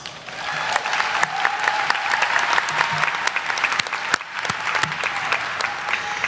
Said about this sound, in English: please join me in giving this class a round of applause